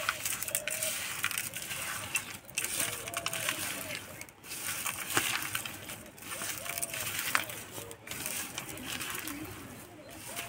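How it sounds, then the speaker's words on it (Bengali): Hands knead crumbly chhana cake batter with chopped cashews and oil in a bowl, giving soft squishing, crumbling sounds close up in a home kitchen, continuous with slight variations. "এবার সব একসঙ্গে খুব ভালো করে আবার মেখে নেব।"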